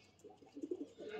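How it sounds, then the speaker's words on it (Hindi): Pigeons scuffling at home, the red one attacking; soft cooing and brief fluttery calls come close and faint over about a second, with no talk. "देखो अभी से मार रहा लाल वाला कबूतर"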